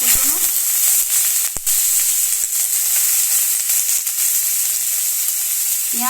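Dried red chilli and chopped onion frying in hot oil give a loud, continuous close sizzle with a few brief crackles and no talk.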